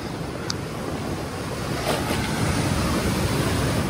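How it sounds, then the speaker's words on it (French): Big ocean waves breaking on the rocky Madeira shore, a steady close roar of surf with gusting wind buffeting the microphone throughout. "Là il y a des grosses vagues qui viennent presque jusqu'à moi"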